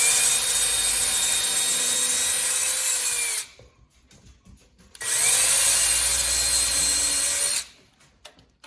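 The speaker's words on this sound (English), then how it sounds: "Run your pilot hole inside your holes up into the header board." A power drill bores a pilot hole up into a wooden header board while blinds are being installed: two loud, steady whirring bursts of about three and a half seconds each, split by a short quiet gap.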